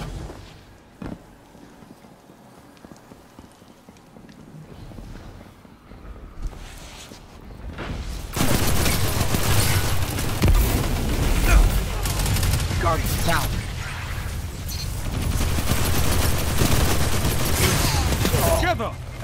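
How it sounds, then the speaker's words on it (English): Charges going off in the Destiny 2 video game, a quiet stretch with a few isolated thumps, then a sudden loud, sustained barrage of blasts and gunfire-like cracks, with voices talking underneath. "If those charges explode, all is lost."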